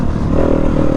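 A 2019 Yamaha WR250F dirt bike engine roars steadily and loud up close for a brief moment while riding along a trail, with rough clattering mixed into the drone.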